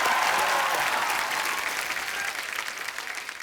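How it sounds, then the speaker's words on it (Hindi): Sustained applause from a studio audience at a Hindi comedy talk show with cricketer guests, steady and dense throughout, slowly easing in loudness near the end. "तालियां।"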